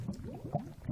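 Lava in Minecraft flows and bubbles with soft, gurgling pops that repeat a few times, faint and close, with no voices.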